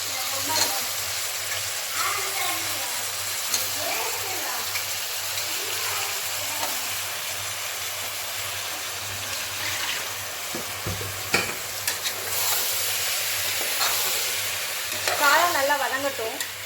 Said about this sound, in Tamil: காளான் நல்லா வதங்கட்டும்.